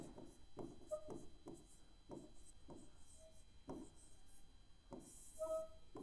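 A pen writes on paper in short, repeated strokes with small scratchy bursts and brief pauses between them. The sound is faint and close, and no one speaks.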